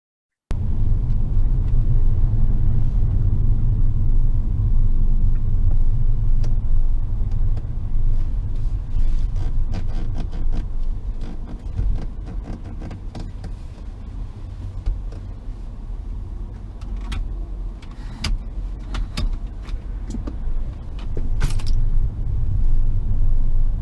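Tesla car driving on a road, recorded from inside as a steady low rumble of road and tire noise that softens midway and swells again, with occasional faint knocks and no talking.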